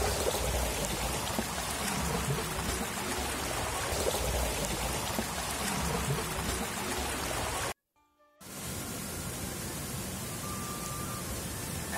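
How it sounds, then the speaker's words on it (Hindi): Water pours onto the turbine of a Uttarakhand watermill after the input shutter is opened, making a steady, dense rushing hiss with a brief cut partway through. "चक्की के टरबाइन के ऊपर ढेर सारा पानी गिरने लगता है और टरबाइन मूव करना शुरू कर देता है।"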